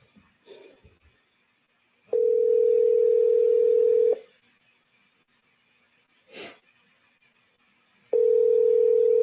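Steady telephone dial tone sounds in two loud bursts of about two seconds each, heard while placing a call, with brief breathy noises and a short sniff-like sound in the quiet gaps between them.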